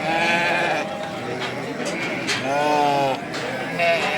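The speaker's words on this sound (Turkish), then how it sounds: "Evet arkadaşlar bunlar dişi kuzu." Female lambs bleat repeatedly at a busy livestock market in Kadirli, with a dense crowd murmur and nearby talk running underneath.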